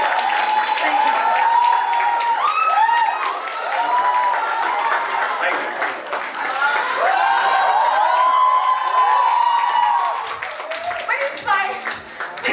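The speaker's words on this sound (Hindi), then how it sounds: "एक बार जोरदार तालियां शाहरुख सर के" Loud crowd cheering and clapping for Shah Rukh Khan at a Netflix announcement event in Bollywood, sustained whoops and shouts over applause for the whole stretch, with a brief dip midway.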